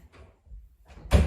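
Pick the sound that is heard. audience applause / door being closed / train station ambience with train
door being closed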